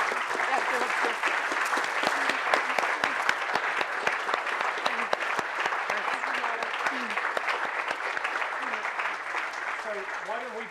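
An audience claps warmly for Riley in a sustained, dense burst of applause that carries through the whole stretch, with a few voices murmuring underneath.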